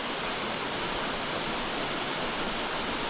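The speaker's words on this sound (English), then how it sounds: "So nice just listening to that waterfall though." Steady waterfall roar along a steelhead river, a dense unbroken wash of falling water filling the whole clip at even loudness with no voices.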